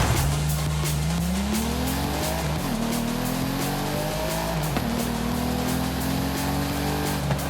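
A Ferrari in Forza Horizon 5 roars loud and close, its engine note climbing through gears with tire squeal mixed in, steady and continuous throughout.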